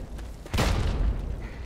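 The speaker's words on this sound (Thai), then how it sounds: "ชัดเลยผมว่าทุ่นระเบิด" A landmine explodes in Fallout 3, a sudden deep boom that swells and rumbles for about half a second before fading into low background noise.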